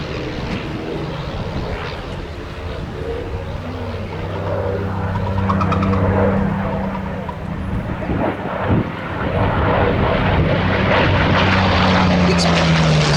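A vintage Sopwith Camel biplane flies at a Shuttleworth air display, its rotary engine droning steadily and swelling louder as it passes over a noisy outdoor crowd.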